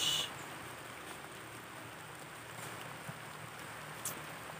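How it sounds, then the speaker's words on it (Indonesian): Steady rain falling outdoors at a sand-loading site for an old truck, a soft continuous hiss that stays even throughout with a few faint drips and no speech. "Ya, hujan terus."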